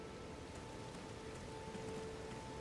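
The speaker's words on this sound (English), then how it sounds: "It's raining." Steady rainfall in the Elden Ring video game, a faint even hiss of falling rain with no voices over it for the whole stretch.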